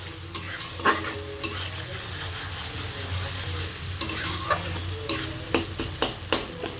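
Sago khichuri with mung dal and mustard-oil-fried vegetables is stirred in a pot, with a low steady sizzle broken by repeated sharp spoon scrapes and knocks against the pot, close and clear.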